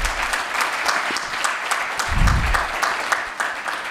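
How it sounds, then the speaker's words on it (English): An audience applauds at a conference keynote, with steady, close clapping from a full room that keeps up without a break throughout. "Let's have a loud round of applause for these young minds"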